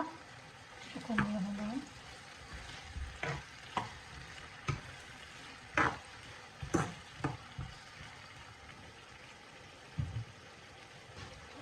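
Pomfret fish frying in a pan, with a soft sizzle under intermittent stirring clinks and scrapes scattered through the stretch, fairly quiet and close.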